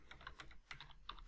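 Keystrokes on a computer keyboard entering VBA code in Excel, a quick run of close, crisp clicks with brief pauses, no voices.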